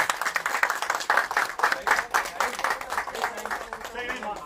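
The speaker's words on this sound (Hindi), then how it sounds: "एक बार जोर तालियां हो" An audience applauds steadily, a dense patter of many hands clapping together, with some voices mixed in beneath.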